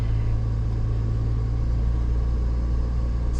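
A 2021 Cadillac Escalade creeps into a parking spot on its own automatic parking assist, giving a steady low engine rumble from inside the cabin, even and unbroken throughout.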